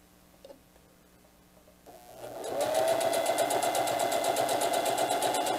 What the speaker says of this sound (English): You got to remember to sew it down well